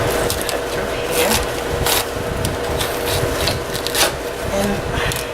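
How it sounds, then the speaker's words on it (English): A knife cutting a red cabbage in half on a board, a loud close crunching, rasping scrape that swells and fades over several seconds. "And cut the red cabbage in half."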